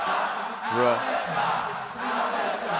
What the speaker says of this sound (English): There's a lot of super excited people in the Chicago crowd.